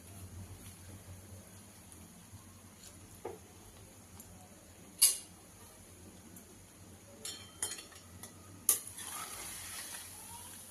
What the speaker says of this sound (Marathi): आणि हलक्या हाताने आपल्याला नारळाचा जो खीस आहे तो हलवून घ्यायचा आहे तुपामध्ये